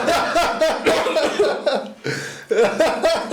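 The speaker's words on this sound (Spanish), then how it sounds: "Me hiciste que me volviera la tos." Close, repeated bursts of coughing mixed with laughter, broken by a short pause midway.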